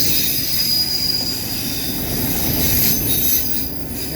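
An empty CSX manifest freight train of auto racks rolls steadily past up close, wheels squealing high and continuous over a dense rumbling roar.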